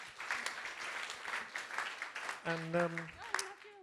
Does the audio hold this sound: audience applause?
yes